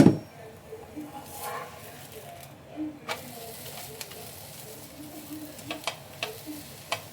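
Rice roti with dill and drumstick leaves cooks in oil on a pan, giving a soft steady sizzle with occasional scraping and pressing taps close by.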